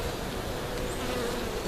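Honey bees in a bee yard drone in a dense, steady buzz that fills the whole moment, close and continuous, with no voices.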